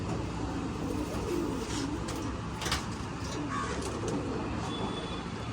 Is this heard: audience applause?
no